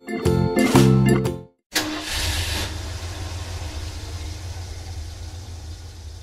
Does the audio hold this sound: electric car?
yes